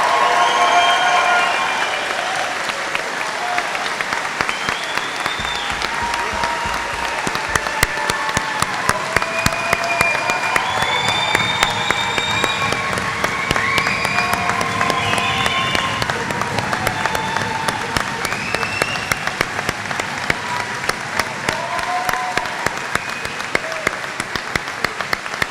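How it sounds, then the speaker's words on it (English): A large convocation crowd applauds graduates of Peterborough's 2022 class standing at a ceremony, dense sustained clapping mixed with cheers and whistles filling the hall for the whole stretch. "how about one more round of applause, shouting enthusiasm for our graduates?"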